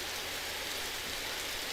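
Heavy rain pours down in a racing video game at a wet Canadian Grand Prix, a dense, even hiss that stays steady and fills the background with no voices.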